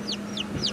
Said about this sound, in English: let's stop and have a look at our new baby chicks